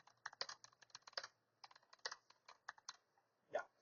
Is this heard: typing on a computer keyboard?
yes